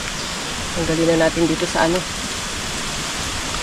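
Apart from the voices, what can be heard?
rain falling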